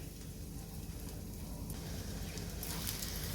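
Katmer pastry frying gently in a pan over low heat gives a soft, continuous sizzle with fine crackling, close and steady, growing slightly brighter toward the end.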